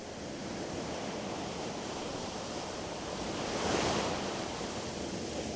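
Atlantic surf and strong wind at the Nantucket dunes near Wauwinet beach: a continuous wash of breaking waves and gusting air that swells briefly louder midway, with no voices.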